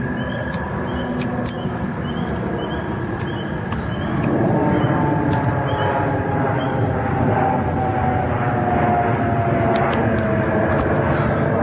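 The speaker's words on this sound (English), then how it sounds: "It's a jet." A jet aircraft roars overhead, its steady loud drone swelling partway through and holding, with faint ticking clicks in the background.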